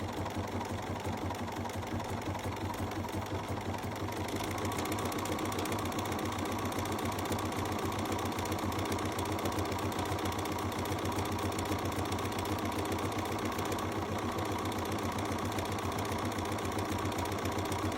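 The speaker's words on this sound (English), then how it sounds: "And it's just going to keep stitching away." Bernina sewing machine stitching scallops with foot #6, making a fast, even, continuous mechanical whir and rattle close by that runs steadily without a break and with no voices.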